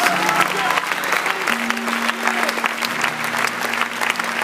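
A church audience claps steadily and loudly throughout, a dense wash of applause with a faint sustained tone underneath.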